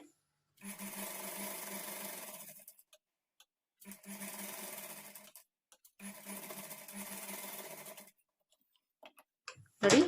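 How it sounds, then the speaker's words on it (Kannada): A sewing machine stitches blouse piping fabric in three close bursts of a few seconds each, its rapid needle clatter separated by short silences. "ಈ ಕಡೆ ಎಡ್ಜು ಎಲ್ಲಿವರೆಗೂ ಇರುತ್ತೆ ಅಲ್ಲಿವರೆಗೂ ನೀವು ಸ್ಟಿಚ್ ಮಾಡ್ಕೊಳ್ಬೇಕಾಗತ್ತೆ"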